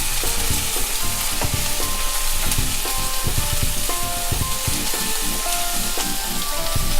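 Raisins and curry leaves sizzle steadily in a hot pan for a sweet raisin pickle. The loud, continuous frying hiss is dotted with stirring scrapes and clicks, with no voices.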